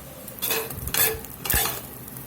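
Ground beef sizzling in a pot for a rustic Louisiana blackened hamburger soup, with three distinct bursts of scraping and stirring over a steady frying hiss, close and fairly loud.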